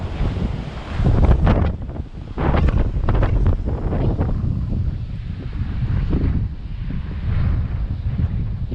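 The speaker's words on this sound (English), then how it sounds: "Hasn't been so windy." Strong wind gusts roar across the microphone at a seaside campground at Sandy Cape, buffeting loudly and unevenly throughout, with a low wash that may be surf underneath and no voices.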